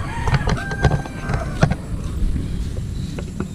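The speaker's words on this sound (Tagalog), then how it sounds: "Manok na panabang lang sila dito." Roosters crow in the distance on Siargao Island, Philippines, a long drawn-out call over a busy backdrop of clucking fowl and outdoor bustle.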